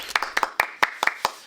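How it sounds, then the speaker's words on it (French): A small audience at a trade show claps in a short, quick burst of sharp, uneven hand claps, close and fairly loud, with no talk over it. "je propose qu'on applaudisse Héloïse qui a participé à ce salon"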